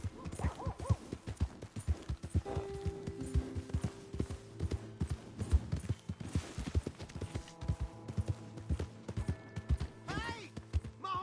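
Horse hooves clip-clop at a steady walking pace in Red Dead Redemption 2, close and fairly quiet, mixed with game ambience and scattered tones.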